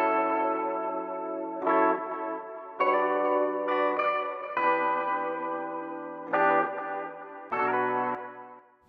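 Electric guitar chords ring out with a tape delay, each strum followed by echoing repeats that smear into the next, played alone in a moderate, spaced rhythm.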